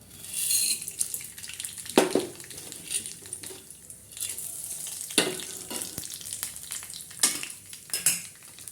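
Chana dal, urad dal, mustard seeds and cumin fry in hot oil for upma, giving a soft ongoing sizzle broken by sharp spoon clinks against the pan and brief louder crackles.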